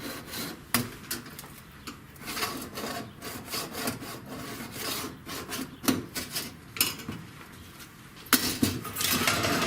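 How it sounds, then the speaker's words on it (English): A scribe scratches a cut line into a VW bus body panel, producing irregular rasping strokes up close, alone, with sharper scrapes near the end. "I'm just going to scribe this line here."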